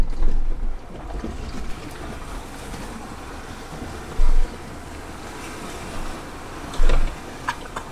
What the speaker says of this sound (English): gotta love that sound of running water like that